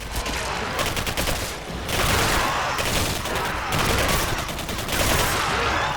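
Gunfire in the sci-fi first-person shooter Singularity on Xbox 360, loud rapid bursts of shots in rattling volleys with brief pauses between them and no talking.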